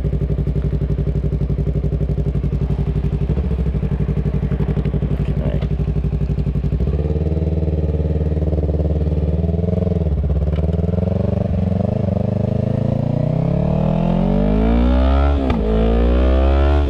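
A Yamaha YZF R3 motorcycle with a loud aftermarket exhaust while riding on a road: a steady, constant engine drone at cruising speed, shifting pitch as revs change, and a rising rev toward the end, heard close up.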